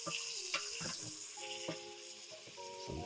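Chicken and andouille sausage in olive oil cooking in a pot for a Southern gumbo, a low steady sizzle with scattered soft knocks and stirring clatters, close by and without talking.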